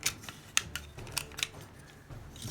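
Plastic Transformers Titans Return Galvatron toy legs being folded, giving a few small, close clicks and snaps of plastic parts at an irregular rhythm, faint and alone.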